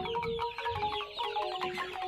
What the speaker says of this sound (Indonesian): Pagi-pagi udah berkerumun dengan ayam.